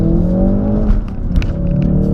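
A 2016 Ford Focus RS accelerates hard, its engine note climbing in a strong, close, continuous roar heard from inside the car for about two seconds.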